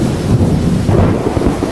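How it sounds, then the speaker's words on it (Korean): Thunder and rain as a sound effect: a loud, dense rumble with a steady rain hiss throughout a short burst, with no voices. "햇빛이 쨍쨍한데 왜 나한테만 비가 내리지?"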